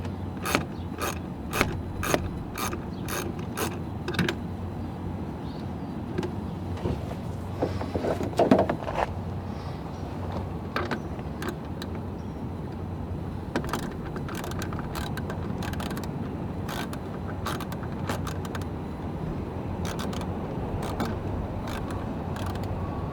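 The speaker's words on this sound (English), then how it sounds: "And now we're going to take the 3 bolts off to take the linkage off." Work on the windshield wiper linkage of a Chevrolet HHR, with a ratchet clicking in rapid bursts as bolts are loosened, interspersed with metallic rattles and tool handling, steady and close.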